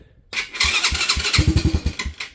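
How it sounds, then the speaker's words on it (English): A Venom Madix 125 motorcycle with recurring carburetor trouble cranks and catches, its small single-cylinder engine sputtering into quick, uneven loud pulses close by, with no talking. "let's see if it'll fire up"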